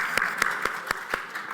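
A few sharp hand claps ring out in an even rhythm, roughly four per second, close and distinct over a hushed room at a panel discussion.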